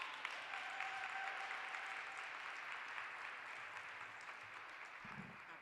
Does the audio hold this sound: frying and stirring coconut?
no